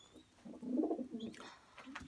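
Soft, low pigeon cooing close by from a pair of Ladik birds, a rolling coo followed by quieter murmurs, with faint chirps in the background.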